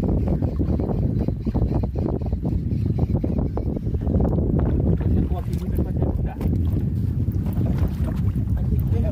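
A fishing boat trolling near islands off Barra do Sul, its steady low engine rumble mixed with heavy wind buffeting the microphone and water noise, continuous and loud throughout.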